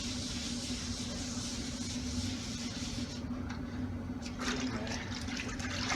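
Running tap water hisses steadily while epoxy grout is cleaned off tile, a continuous mid-level wash with a brighter splashing surge near the end.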